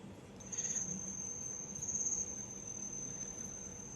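Crickets chirp in a steady, high-pitched trill, fairly close and continuous, over a soft background hiss.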